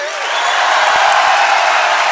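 Audience in a theatre at a live comedy performance applauds for an audience member named Juan; loud, continuous clapping swells early, with a few low thumps and scattered cheers mixed in.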